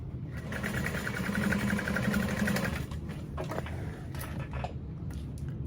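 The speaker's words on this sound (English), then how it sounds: "make sure you're feeling through that side seam so that you're not sewing through anything" A sewing machine stitches the side seam of a backpack, running in a steady, fairly loud mechanical whir for about three seconds before easing off into quieter handling sounds.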